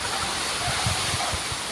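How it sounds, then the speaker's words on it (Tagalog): Heavy rain pouring down outdoors, a dense, steady, loud hiss of falling water with no talk over it. "Malakas na ang ulan."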